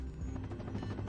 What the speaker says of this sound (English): I'm just going to helicopter my way on over.